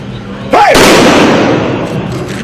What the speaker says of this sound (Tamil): 10 ஆயுதப்படை வீரர்கள் 3 சுற்றுகள் வீதம் 30 துப்பாக்கி குண்டுகள் முழங்க மரியாதை செலுத்தினர்